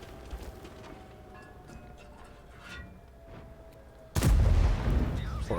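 Tank cannon shots in a tank battle video game, with faint distant booms over a low background hum, then a sudden loud, close crack that gives way to a heavy rumbling roar.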